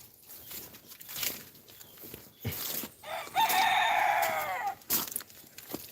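A rooster crows loudly nearby on a homestead with several roosters, in one long drawn-out call, preceded and followed by scattered clucks, rustling and footsteps.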